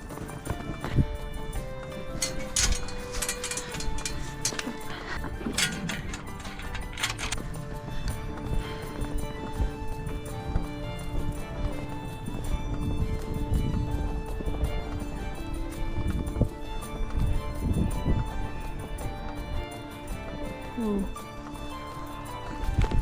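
Horse hooves clip-clop steadily while riding on a farm in winter, with an occasional whinny, close and continuous over outdoor noise, while people talk.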